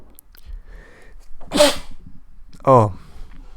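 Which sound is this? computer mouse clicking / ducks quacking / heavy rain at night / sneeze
sneeze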